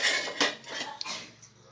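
A knife clinks against a plate or pan in a few short, sharp knocks while cooked curry ingredients are cut into pieces, close up, with no voices.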